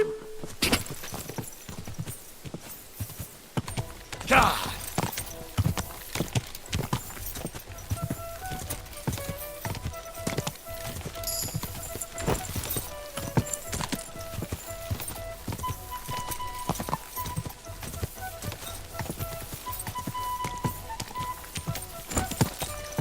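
Steady clip-clop of horse hooves on a track in Kingdom Come: Deliverance II, with a single whinny near the start and constant saddle and strap clatter running beneath it.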